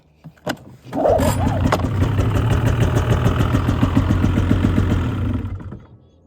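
A snowmobile engine turns over with a couple of sharp pops, then catches and runs at a rough, loud idle for several seconds before dying down near the end.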